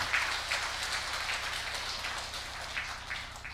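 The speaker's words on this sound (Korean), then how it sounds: "하나님께 큰 영광의 박수를 드리겠습니다." A church congregation claps together in a steady, close wash of applause that fades slightly toward the end.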